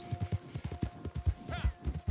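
A horse gallops in Red Dead Online, its hoofbeats landing as steady, quick thuds about five times a second, close and moderately loud, with a brief whistling swoop partway through.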